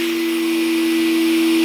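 An old canister vacuum cleaner runs steadily, a loud close motor whine with a strong constant hum and airy rushing, unbroken and without talk.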